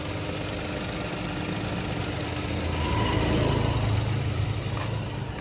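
A Toyota Wigo engine idles quietly after repair, giving a steady, smooth low hum close by that swells a little midway. No one speaks over it.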